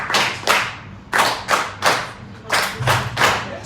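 A group claps a steady capoeira rhythm in threes, sharp close handclaps landing in regular clusters with no talking.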